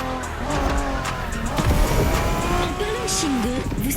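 A Honda NSX races in the video game The Crew Motorfest, its engine revving and shifting loudly while tires squeal and skid through corners, with people talking over the driving.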